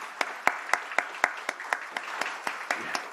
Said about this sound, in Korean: 우리 한번 축복의 박수하도록 하겠습니다